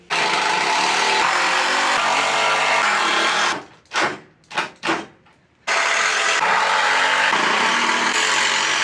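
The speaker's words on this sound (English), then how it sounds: "So let's go ahead and screw them in." Power screwdriver driving screws to fix beveled front straps onto a homemade treadle hammer in a workshop, with a sustained loud whirring run, then a pause broken by short bursts, then another long whirring run.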